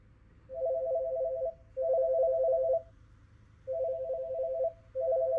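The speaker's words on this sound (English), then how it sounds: "Can you hear the phone ringing?" A telephone rings in repeated double-length electronic trills with short pauses between, clear and moderately close, with no talking.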